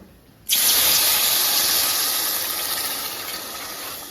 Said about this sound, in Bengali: ডালটা ভাজা হয়ে গেছে এবং ভাজা সুন্দর সেন্ট উঠেছে আমি এবার এক মাস জল দিয়ে দেবো